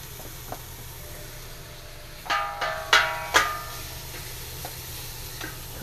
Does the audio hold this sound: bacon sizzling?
yes